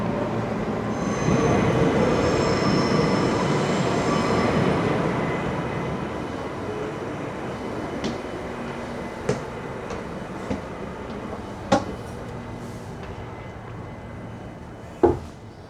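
A train running on rails in the Netherlands, heard from onboard. A loud rumble and roar gradually fades into quieter rolling, broken by a few sharp clicks and clanks from the wheels and carriage.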